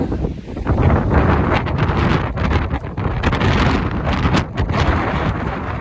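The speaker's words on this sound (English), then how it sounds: "It's a bit windy up here" Strong, constant wind on a mountain summit in the Sangre de Cristo Mountains roars and buffets loudly across the microphone, gusting unevenly throughout with no other sound standing out.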